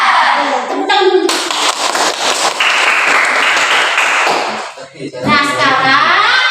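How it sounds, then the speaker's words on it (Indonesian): Students in a classroom clap their hands together at close range, a loud burst of brisk clapping that runs for several seconds, with children's voices before and after. "Tepuk tangan dulu."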